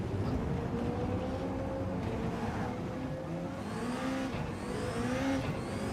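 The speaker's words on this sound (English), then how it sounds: "I can hear the engines." Gr.1 prototype race car engines in Gran Turismo 7 drone loudly and continuously, their pitch climbing and shifting as the cars accelerate, with no talking over them.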